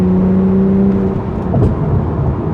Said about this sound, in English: you have got some nice engine noise there